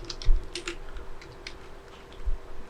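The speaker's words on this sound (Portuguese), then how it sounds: "eu vou digitar alguma coisa aqui na tela" Keystrokes on a computer keyboard, a quiet scattered run of separate taps with a faint steady hum underneath and nobody speaking.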